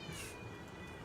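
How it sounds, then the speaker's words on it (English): A house cat meows indoors during a gaming championship livestream, a short, faint call with a rising whine, alone with no talk over it. "I hear a cat. Is that a cat?"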